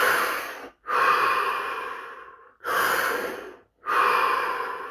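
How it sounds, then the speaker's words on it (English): Three deep, slow breaths are taken close to the mic. Each long, airy inhale or exhale lasts a second or two and is separated by brief silent pauses, with no speech. "3 deep, deep breaths"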